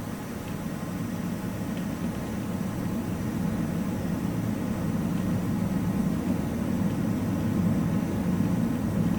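Red Arrows BAE Hawk jet engine spooling up under added throttle at the Mach Loop, a steady loud low rumble and roar that swells slightly over its length, heard from close by with no talk.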